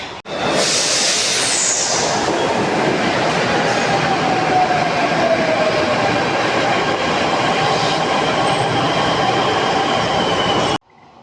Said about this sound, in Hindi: जब मेट्रो आएगी उसमें बैठ के चलेंगे ऑफिस की तरफ हम लोग